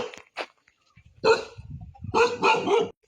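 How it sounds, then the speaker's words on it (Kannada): A village dog barks in a few sharp bursts close by, with short yips between the louder woofs at a hillside hamlet. "ಯಾರೇ ಯಾವ ಥರ ಬೊಗಳಕತ್ತೈತಿ ನೋಡಿದ. ಏಯ್ ನಾಯಿ ಚುಪ್"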